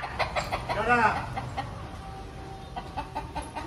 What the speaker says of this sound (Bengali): এই মোরগটা অসভ্য মোরগটা